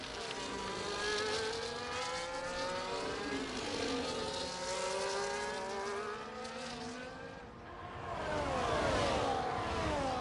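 Race cars in an F1 video game race at Brazil, running in a close train, whine with rising and falling engine pitches, a dip and swell as revs drop and climb again, loud and without voices.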